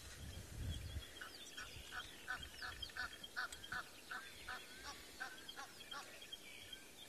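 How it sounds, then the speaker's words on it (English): An Egyptian goose honks in a long series of rhythmic, harsh calls at sunrise on an African safari, fairly distant, with a low rumble at the start and other birdsong in the background. "that one was obviously an Egyptian goose."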